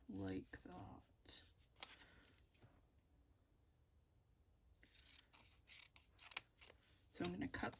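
Scissors trimming paper to make a policy envelope flip, heard as close, quiet snipping and rubbing paper sounds with a pause in the middle, while a voice speaks softly around them.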